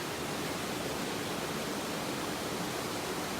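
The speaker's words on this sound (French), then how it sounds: "C'est vraiment joli, avec des belles cascades." Waterfalls cascade in the Gorges du Sierroz near Grésy-sur-Aix, a dense, steady rushing roar of falling water with no voices.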